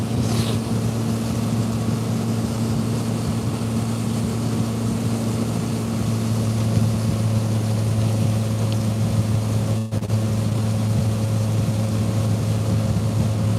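Pontoon boat motor running at high speed during a catfishing trip near Fort Loudoun Dam, a steady droning hum with strong tonal bands and constant wind rush, unbroken and loud throughout.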